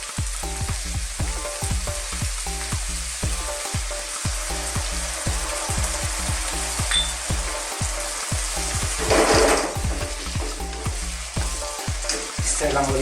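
Garlic shrimp with lemon juice sizzles loudly in a pan, a dense hiss under a brisk, repeating scrape and knock of the utensil stirring, close and constant throughout.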